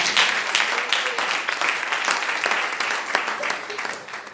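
Church congregation applauding and calling out in acclamation during a Sunday worship service, a steady wash of clapping and voices sustained throughout without a break.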